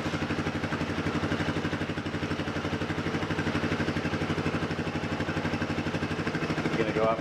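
Small engine of a Yamaha Big Bear 4x4 quad running at a steady, even putter with a rapid regular firing pulse, fairly close and continuous throughout.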